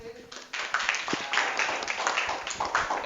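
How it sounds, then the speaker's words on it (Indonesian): A small classroom group claps for a student named Fazlin, a brief patter of applause that starts abruptly and runs a few seconds, fairly close and modest in volume. "Tepuk tangan untuk Fazlin."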